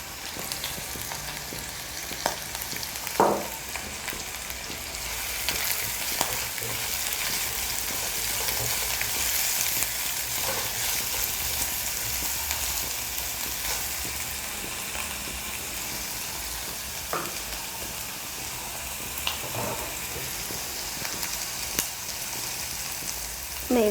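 Chopped green chillies and salt fry in hot coconut oil in a pan with a long, steady sizzling hiss. A few scattered clicks and spoon scrapes punctuate it, close by, with no voices.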